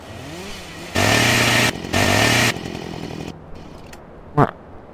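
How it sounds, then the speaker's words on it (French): A chainsaw in the video game Farming Simulator 2013 roars loudly in two bursts of about a second each, then idles roughly, followed by a short sharp rev near the end. "et aussi une tronçonneuse."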